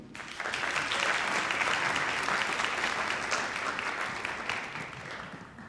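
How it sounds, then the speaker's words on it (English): An audience at a TEDx university conference breaks into full applause for two organizers, a dense steady roar of clapping that swells quickly and gradually fades. "please give a round of applause for Madhu and Beti"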